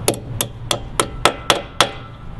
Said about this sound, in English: all you do is hammer these on, very similar to a wheel weight